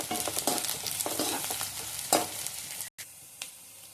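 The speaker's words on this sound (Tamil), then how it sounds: "வெங்காயம் போட்டுக்கிறேன். சும்மா ஒரு 4 பச்சை கருவேப்பிலை போட்டுக்கிறேன்." Onion and green curry leaves frying in a pan, a close sizzling hiss broken by rhythmic stirring scrapes and clanks, with a brief drop in sound near the end before the sizzle resumes more quietly.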